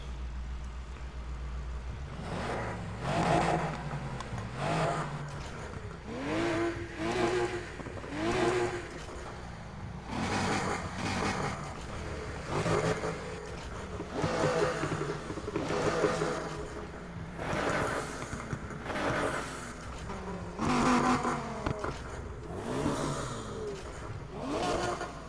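Engine-swapped Aston Martin in the racing game Need for Speed Heat, revving and pulling through gears in repeated rising surges with shift breaks between them, a steady loud engine drone across the whole stretch with no talking.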